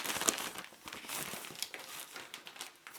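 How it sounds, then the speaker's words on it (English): A Yeo Valley shopping bag crinkles and crackles steadily as it is folded and shaped by hand, close up and continuous with small louder snaps. "just trying to get the bag in shape as best I can without causing too much noise"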